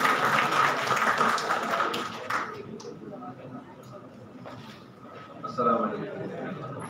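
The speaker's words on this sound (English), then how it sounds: "A big round of applause for sir." Applause from the audience at an industry conference on metallurgy and materials greets a speaker called to the stage, clapping strongest at first then thinning out, with talk and background murmur running under it.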